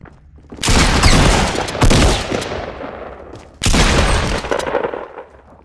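Loud, close shotgun blasts in the Fortnite video game, two booming shots with rattling tails, spaced about three seconds apart and each fading out slowly.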